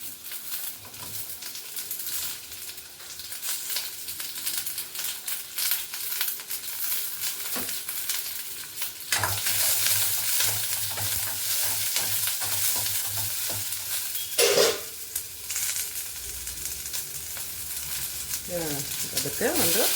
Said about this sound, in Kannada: ಅದಕ್ಕೆ ಒಂದು ದಪ್ಪುಗೆಡ್ಡೆ ಈರುಳ್ಳಿ ಉದ್ದಕ್ಕೆ ಹಚ್ಚಿಟ್ಕೊಂಡದ್ದು ಇದನ್ನೆಲ್ಲ ಹುರ್ಕೊಳ್ತೀನಿ ನಾನೀಗ